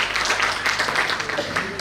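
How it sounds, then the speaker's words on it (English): Audience at an international academic conference applauds a keynote speaker, a steady wash of clapping from many hands at moderate volume for a couple of seconds. "A huge round of applause for Dr."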